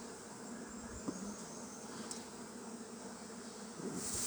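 Bees in an open hive box at Maungatautari buzz in a steady, close swarm drone, quiet and continuous, with faint wind and no talk.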